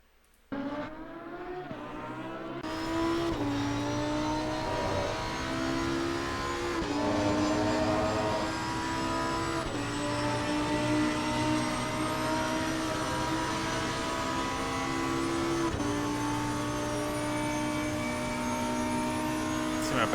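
A Lamborghini Huracan EVO GT3 racing at Barcelona in Assetto Corsa Competizione, its engine howl climbing steadily through the gears with sharp upshifts every few seconds, loud and continuous with no talking.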